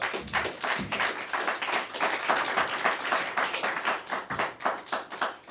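Forum audience breaking into a round of applause, many hands clapping loud and close in a dense, lively patter that holds steady across the whole stretch, with no talking over it.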